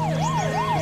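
An ambulance siren wails in a smooth rising and falling sweep, loud and close, two full cycles heard alone without voices.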